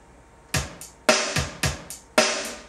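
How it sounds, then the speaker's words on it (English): A basic rock drum groove plays alone, with sharp broadband cymbal and drum hits in a steady rhythm, about six strikes over a short span with quick decays. "You can hear the drummer's hi-hat counting off the 8th notes in the grid."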